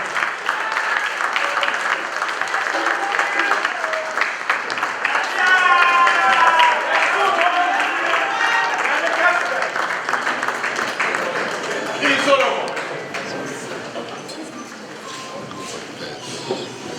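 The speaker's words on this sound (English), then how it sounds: "Let us give him a big round of applause." Audience applause and crowd noise welcome King Otumfuo Osei Tutu II, the Asantehene, as special guest of honour at a power breakfast event, a sustained loud wash of clapping with a brief swell near the end.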